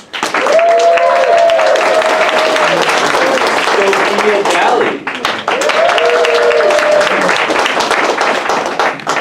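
An audience at a school poetry slam claps and cheers as student poets walk on stage, with dense, loud applause and a short dip midway, while a voice announces over it.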